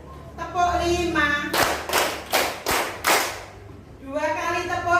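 A group of children in a classroom claps a rhythmic five-count pattern, a run of loud, evenly spaced claps framed by a teacher speaking before and after.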